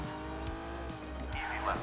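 Rally car engine in the arcade racing video game Old School Rally, a steady buzzing drone with rhythmic pitch drops and tire squeal, under someone speaking.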